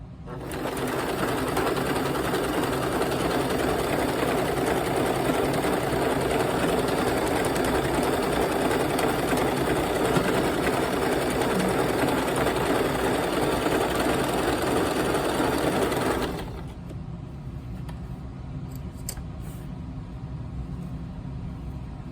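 A home sewing machine runs steadily while stitching a jelly roll quilt, a loud continuous motor whir lasting about sixteen seconds before stopping abruptly, leaving a quieter room hum.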